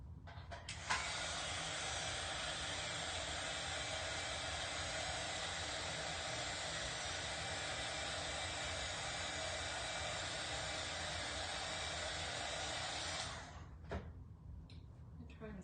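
A hair dryer blowing on a Halloween bat decoration, a steady loud whooshing hum that runs without a break for about twelve seconds and then cuts off, with some faint handling noise afterward.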